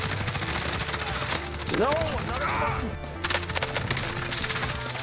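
Rapid automatic gunfire in a video game crackles loudly and almost nonstop, with a player's voice and a rising in-game tone over the shooting.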